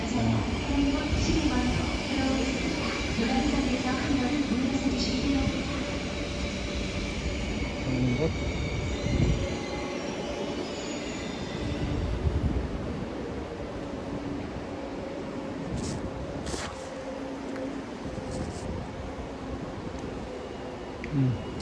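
A KTX-Sancheon high-speed train rolls into Dongdaegu Station in Daegu, its loud rumble easing as it slows, with brief metallic squeals near the end and voices around.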